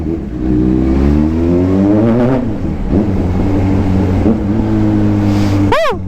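A Kawasaki ZH2 motorcycle engine revs loud and close, holding a steady rumbling drone that rises and falls in pitch before a sharp final rev.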